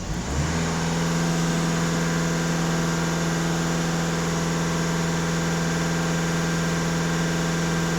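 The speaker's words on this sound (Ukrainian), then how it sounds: "Даю обертів." Skoda TDI EA288 diesel engine held at raised revs, a loud steady droning hum with a strong low tone rising briefly at the start, then continuing evenly at close range.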